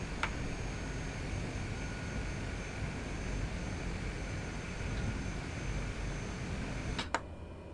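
A Grand Caravan propeller plane taxiing in Microsoft Flight Simulator 2020 gives a steady, close engine drone throughout, with a couple of sharp clicks near the start and end.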